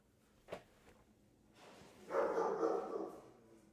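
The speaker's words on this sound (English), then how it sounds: "And her dog, Cindy, German Shepherd, is here." A German Shepherd gives one sharp bark early on, then a broader rustling noise swells for about a second, with the dog somewhat distant indoors.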